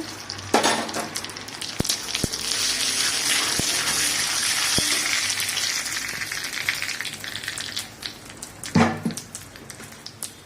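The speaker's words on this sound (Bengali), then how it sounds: "আমি শুকনো লঙ্কা দুটো দিয়ে দিচ্ছি, কারি পাতা দিয়ে দিচ্ছি, সর্ষে দিয়ে দিচ্ছি" Dried chillies, curry leaves and mustard seeds hit hot oil with a loud burst of steady sizzling and crackling, a few sharp pops and clinks scattered through, swelling again near the end, close and without talk.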